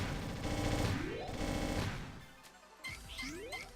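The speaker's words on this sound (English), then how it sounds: "Rapid fire is a rapid fire laser" Rapid-fire laser shots in the shoot-'em-up game Gundemonium Recollection, bursts of dense chattering fire over a busy soundtrack, with rising electronic sweeps and a brief drop before the barrage resumes.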